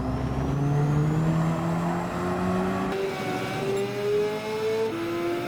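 Hyundai Elantra N engine in Gran Turismo 7 held at full throttle in an online time trial, a loud steady drone climbing through the gears with a brief lift and shift near the middle, then pulling hard again.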